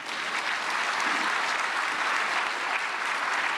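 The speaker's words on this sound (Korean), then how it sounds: "박수로 환영하시겠습니다." Applause from a prayer-meeting audience welcoming a pastor and doctor to speak at a gathering praying for peaceful reunification, a steady dense wash of many hands clapping at even volume throughout, with no talking over it.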